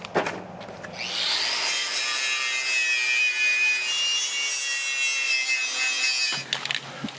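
A wire wheel brushing a van axle, a loud sustained high-pitched scraping whine that spins up sharply, holds steady for about five seconds and then cuts off, with no talking.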